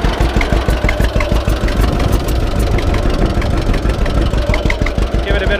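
A tractor engine idles loudly and close up with a steady rapid chugging pulse, the throttle nudged so the beat firms up slightly through the run.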